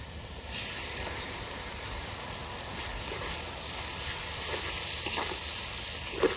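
Ginger and dried chilli paste frying in oil with browned onions, a steady close sizzle and hiss throughout with faint stirring scrapes.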